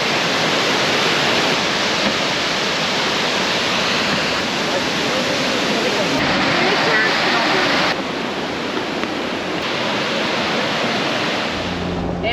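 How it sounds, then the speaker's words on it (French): A waterfall in Una National Park, Bosnia, roars as a steady, loud, broadband rush of falling water that holds an even level throughout, with no breaks or distinct splashes standing out. "là on a vu la cascade qui se trouve dans le parc de Una"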